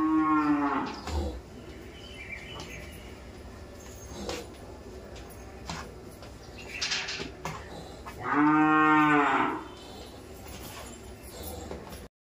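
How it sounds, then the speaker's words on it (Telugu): Cows returning home to a farmhouse give two loud, drawn-out moos, one at the start and another later, separated by quieter stretches of background farm noise. "ఈరోజు కూడా అలాగే వచ్చేసినాయండి చాలా ఆవులు."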